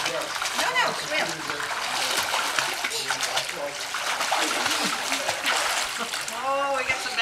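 A young girl named Carly splashes as she swims and kicks in a pool, with continuous close watery splashing and a voice talking over it.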